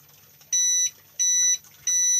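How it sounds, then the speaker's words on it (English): Three loud, steady electronic beeps of a motorcycle disc lock alarm triggered by movement, sounding in an evenly spaced rhythm, each lasting about a third of a second, with quiet gaps between. "Now that warning means it's been moved."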